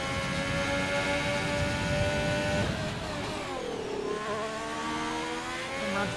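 An F1 car in an F1 video game at full throttle through a corner, a loud high-pitched engine whine holding steady, dipping briefly with a gear change, then climbing again, with no talk.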